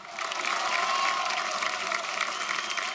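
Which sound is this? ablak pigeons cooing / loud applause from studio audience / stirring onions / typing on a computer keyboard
loud applause from studio audience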